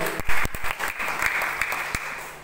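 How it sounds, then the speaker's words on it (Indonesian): Brief burst of congregation applause during a church sermon, close and steady claps with a few sharp individual strikes over about two seconds. "Tepuk tangan."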